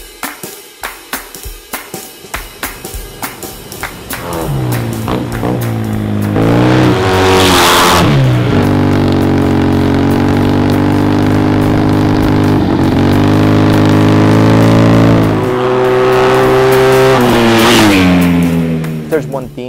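Modified Yamaha TMAX scooter engine revving hard and sustained, rising in loud surges with a sharp high-pitched burst near the middle and again toward the end, after a quieter opening of idle and talk.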